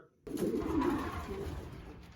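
A soft, low cooing from a nearby pigeon or dove perched on a car, a brief murmuring call over faint outdoor background.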